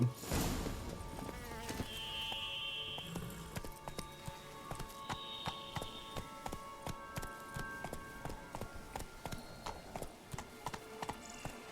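Roach gallops in The Witcher 3, hooves striking in a regular, repeating rhythm over game music, with a neigh near the start.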